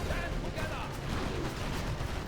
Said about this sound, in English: I want to use this artillery barrage as well to see how that works